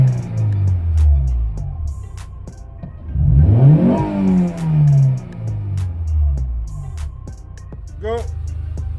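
A Honda Accord Type R (CH1) with its red-top H22A7 VTEC engine revs up and falls back, with one strong rising sweep near the middle and lighter engine tones around it.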